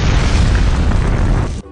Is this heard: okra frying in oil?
no